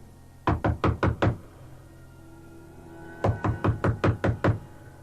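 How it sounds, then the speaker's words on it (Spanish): Knocking on a door in two bursts of five sharp, evenly spaced raps, loud and close, separated by a couple of seconds of quiet room tone. "Sin pensarlo dos veces, subí y llamé a la puerta."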